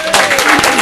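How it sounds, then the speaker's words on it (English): Audience at a city council meeting claps in a short, loud burst of applause, close and dense, lasting under a second. "Big clap."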